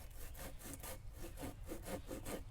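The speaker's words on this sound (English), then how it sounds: "See if we can saw through here real quick." Rhythmic back-and-forth sawing through wood with the saw from a Ganzo Firebird FSA02 axe handle, about ten steady strokes, close and fairly quiet with no talking.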